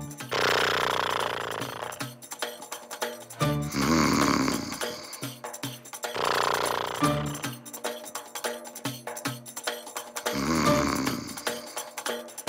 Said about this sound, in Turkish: Horluyor mu?